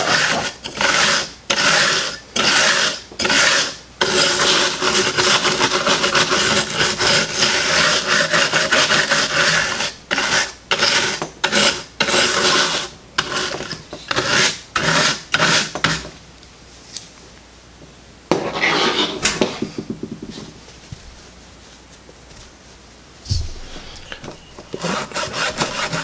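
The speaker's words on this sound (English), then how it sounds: "And our scouring pad, as before, to focus a little bit more on the pins" A scouring pad scrubs the connector pins of an NES console in rapid back-and-forth strokes, a loud raspy rubbing that comes in rhythmic bursts, then slows into sparser, quieter scrapes and brief gaps.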